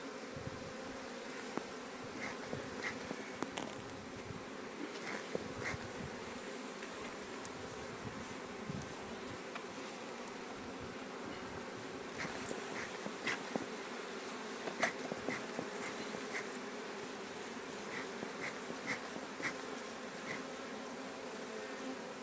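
Honey bees swarming loudly around an opened hive during maintenance, a dense continuous buzz with occasional closer passes, heard alone without talk.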